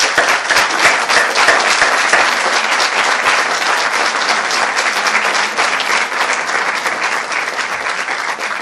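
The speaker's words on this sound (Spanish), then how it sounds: "Un aplauso." Audience applause at a talk on psychophonies in Alicante, a dense, steady burst of many hands clapping that fills the whole stretch at high volume with no voices over it.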